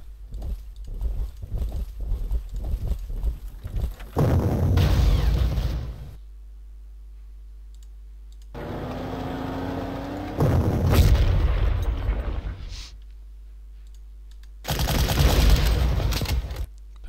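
Artillery explosions and gunfire in the Panzer Corps strategy game, Warsaw battle: a rapid run of sharp shots opens, followed by three heavy booming blasts separated by near silence and a softer rumbling stretch.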